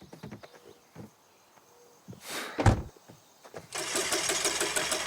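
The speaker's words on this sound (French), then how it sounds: "je crois qu'il y a un problème avec le moteur" In the video game The Quarry, a minivan's engine is cranked but fails to start, giving uneven sputtering turnover bursts and clunks, followed by a sustained rough whir.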